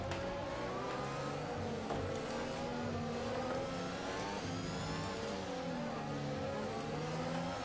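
Formula 1 car engines in the F1 2021 racing game roar at steady high revs as one car dives down the inside to overtake, a continuous loud whine with shifting pitch and no talking.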